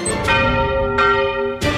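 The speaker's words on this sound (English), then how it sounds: "the bell rings" Three bright bell strikes ring out one after another, each leaving a long overlapping tonal decay, clear and close with no voices.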